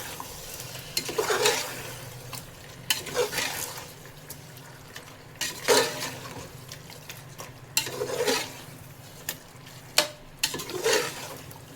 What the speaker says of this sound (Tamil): ஆட் பண்ணிவிட்டு இதை நல்லா மிக்ஸ் பண்ணணும்.